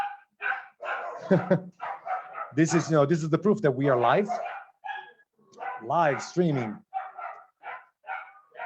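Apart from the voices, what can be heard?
dogs barking in the street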